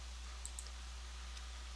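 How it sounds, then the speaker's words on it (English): Faint computer mouse clicks inside statistics software: a couple of soft, sharp clicks close together, then one more, over a low steady hum. "I'm just going to get rid of those for a second here just by clicking on these triangles."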